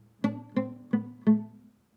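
Four quiet, evenly spaced plucks on a guitar string held with partial fretting-finger pressure, each a short, dampened tone that dies away quickly, played alone in a silent room.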